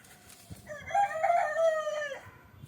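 A rooster crows once, a drawn-out cock-a-doodle-doo lasting well over a second, fairly close and clear over quiet farmyard background with a few faint knocks.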